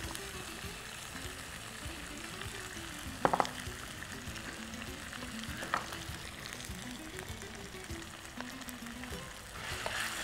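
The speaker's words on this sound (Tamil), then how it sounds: "மிளகாத்தூள் மஞ்சத்தூள் தனியாத்தூள் போட்டோம். நல்லா வதக்கிட்டோம்." Spices such as chili, turmeric and coriander powder sauté in a hot pan, giving a steady close sizzle and frying hiss with a few brief clinks of stirring, no voices.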